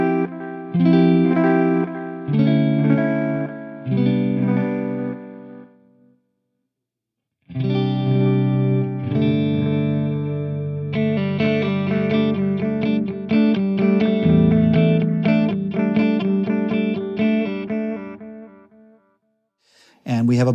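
Guitar run through a Way Huge Echo-Puss analog delay set to its brightest tone, strummed chords and single notes ringing out with crisp repeats, loud and alone, with a brief silent pause midway.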